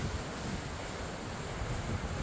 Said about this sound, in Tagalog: Kalmado yung dagat, pero dito medyo maingay.